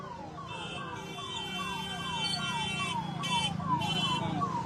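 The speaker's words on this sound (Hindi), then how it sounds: "लीजिए, यहाँ एम्बुलेंस आपको दिख रहा है" Ambulance siren wailing on a street in Mokama, a repeating falling tone cycling steadily at moderate distance over traffic rumble, with brief bursts of higher noise toward the end.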